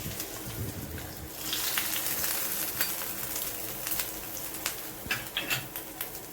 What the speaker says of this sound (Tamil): தாளிச்சதை சட்னி கூட சேர்த்துக்கலாம்.